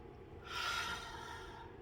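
A single deep breath blown out through the mouth during a calm mindfulness talk, swelling into a soft airy rush midway and fading slowly, close and alone with no speech.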